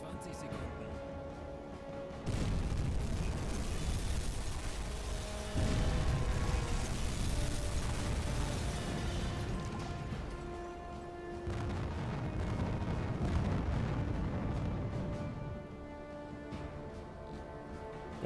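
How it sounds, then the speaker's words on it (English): Deep, rumbling torpedo impacts and a large follow-up explosion on a ship in the submarine game UBOAT roll on for many seconds, loud and sustained, with heavy low-end booms swelling and fading. "Two good hits on the torpedoes, one massive after explosion as well"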